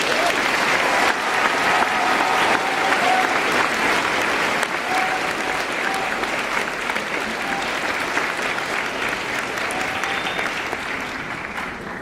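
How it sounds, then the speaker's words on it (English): A graduation audience applauds after a speech, with steady dense clapping from a large crowd holding at an even level for the whole stretch. "Let's give another round of applause."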